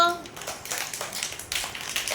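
Kids in a fruit-naming classroom game give a handful of light, uneven hand claps, quiet and close, following a brief voice at the opening.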